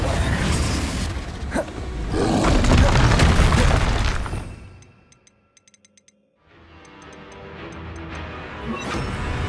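Confringo spell blasts in the Hogwarts Legacy video game, loud booming explosions with roaring rumble that fade into near silence, followed by faint ticking and another swelling rumble.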